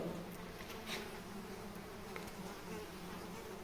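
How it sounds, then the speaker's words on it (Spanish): Small flies swarm inside an abandoned cave house, a steady faint buzzing hum that drones on without a break in a quiet space. "Dios, me atacan todas las moscas"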